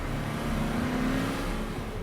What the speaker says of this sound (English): It made a distinctive engine noise. It was quite noisy.